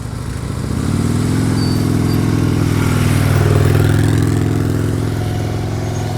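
A motorcycle engine idles and then swells into a steady mid-pitched drone as the bike makes a slow-speed U-turn and comes to a smooth stop during a riding-skills practice session, loud and close with no talking.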